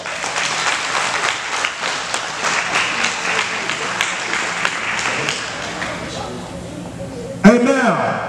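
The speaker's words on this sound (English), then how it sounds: "So let's give them all a round of applause" Applause from a crowd at a county recreation banquet, sustained clapping for several seconds that slowly tapers off before a voice speaks near the end.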